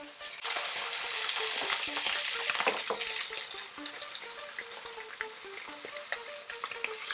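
A pork chop sears in a hot pan for a Chinese-style pork chop, giving a loud, steady, close frying hiss that starts abruptly, holds strong for a few seconds, then eases slightly with faint crackles and no talk.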